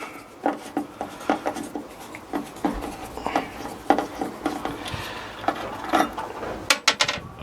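Plastic hook fasteners being unclipped and pried loose inside a Vauxhall Vivaro 2.0 CDTI van during a day-van conversion, a string of sharp clicks, snaps and rattling knocks at close range with no talking.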